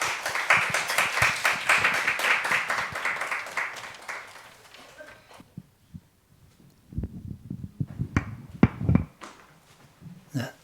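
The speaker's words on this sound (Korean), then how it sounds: "여러분 축하의 박수를 한번 쳐주시면" A church congregation at a Sunday service claps to celebrate a baptism, a burst of applause that fades after a few seconds, followed by scattered faint taps and low rumbling sounds.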